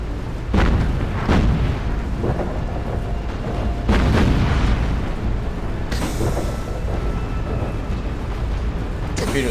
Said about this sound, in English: Broadside fire!